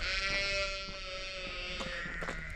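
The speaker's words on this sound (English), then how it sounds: "All the sheep are giving us a send off." Sheep bleat at a Cotswolds farmhouse, with one drawn-out, wavering bleat that is near and moderately loud, followed by fainter calls and rustling.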